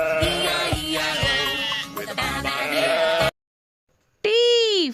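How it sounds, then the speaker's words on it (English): A sheep bleats loudly several times, the calls wavering over background music. After a short silence comes one more long, clear bleat. "S for sheep."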